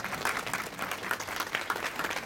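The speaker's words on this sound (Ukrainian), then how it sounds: "Оплески для будь-якого артиста і для будь-якої відомої людини це завжди найкраща винагорода." Continuous crowd applause at the outdoor unveiling of a memorial plaque in Ternopil, a dense, steady patter of many hands that holds fairly loud for the whole stretch.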